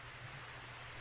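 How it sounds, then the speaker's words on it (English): Rain pours steadily against an umbrella in the video game DRAMAtical Murder, a dense, constant hiss without breaks. "The sound of rain against his umbrella is deafening."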